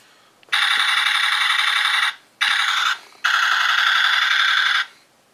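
A loud, harsh electronic rattle from a toy helicopter and jeep playset fires in three sustained bursts with brief pauses between, like a toy machine gun.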